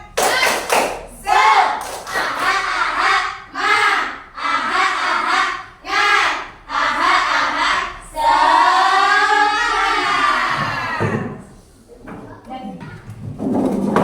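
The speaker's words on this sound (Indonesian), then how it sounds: "Yuk, kita mulai. 1, 2, 3. Tepuk semangat." An Indonesian primary school class performs a rhythmic 'tepuk semangat' clapping cheer. Children's voices chant in short bursts between sharp group claps, then give a long drawn-out shout before the room quiets.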